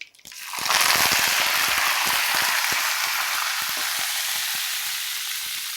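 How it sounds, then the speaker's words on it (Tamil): Small shallots, added with curry leaves, sizzle and fry loudly in hot oil, a dense steady crackle that starts suddenly and then continues evenly with scattered pops and no talking. "அப்புறம் சின்ன வெங்காயம் கரெக்டாக வந்து ஒரு ஒரு நிமிஷம் லைட்டாக வதங்கட்டும்"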